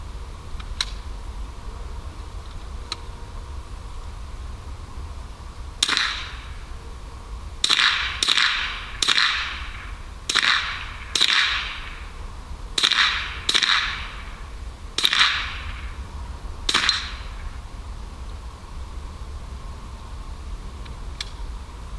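A Ruger 10/22 rifle fires repeatedly at 4-inch steel plates about 35 to 40 yards away: eleven or so sharp cracks, each with a bright metallic ping, come in irregular bursts, spaced apart then quicker, with no talking.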